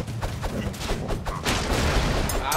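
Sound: gunfire in the video game Broforce

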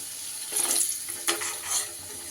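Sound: potatoes frying in oil

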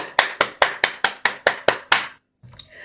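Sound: hand clapping imitating loud cosmic rain

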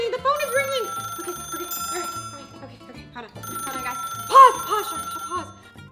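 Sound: telephone ringing

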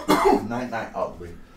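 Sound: cough

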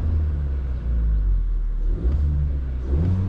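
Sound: Cupra Leon 1.5 TSI engine and exhaust revving

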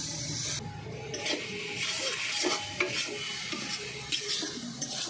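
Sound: stirring sugarcane jaggery and coconut cooking in a pan

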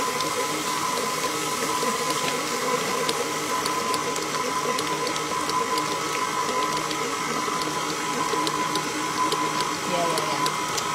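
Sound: electric mixer beating choux pastry dough with eggs

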